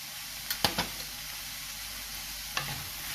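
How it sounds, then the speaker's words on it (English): A spoon stirs cheese corn poha in a frying pan over a steady sizzle, with a few sharp scrapes and knocks against the pan close by. "Mix everything well."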